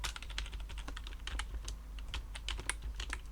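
Rapid typing of JavaScript code on a computer keyboard, close and continuous clicking of keys in irregular bursts without any talk.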